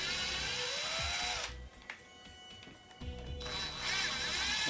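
Power driver backing screws out of an aluminum bracket on an Arrma Vorteks RC truck, two close bursts of motor whine, one at the start and one at the end, separated by a quieter pause.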